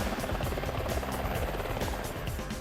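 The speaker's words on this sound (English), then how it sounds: "The Black Hawk helicopter, the Army calls it the UH-60, which stands for Utility Helicopter, Model 60." A Sikorsky UH-60 Black Hawk utility helicopter chops steadily with a rhythmic rotor thump over a constant engine whine, moderately loud and unbroken across the short stretch.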